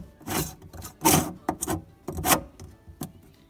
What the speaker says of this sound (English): We're spinning this nut up all the way now and making sure the basket does not